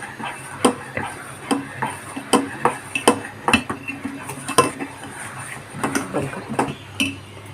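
A spoon stirs a pot of kheer, a sweet rice pudding with raisins, giving repeated close metallic clanks and scrapes against the pan in a steady, fairly loud rhythm, with no speech.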